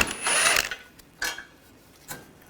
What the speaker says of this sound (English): I'm going to take the outer bolt out,